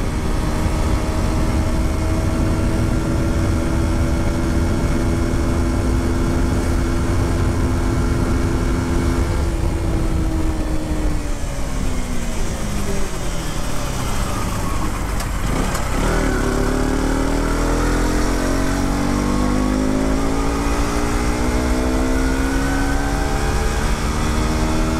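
A KTM RC motorcycle engine drones loud and close as it accelerates in fourth gear, holding a steady pitch before dipping briefly, then climbing again with wind rush throughout.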